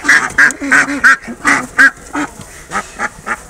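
Ducks at a poultry market in Turkistan quack in a quick, loud series of about a dozen short nasal calls, close by, with a brief pause midway.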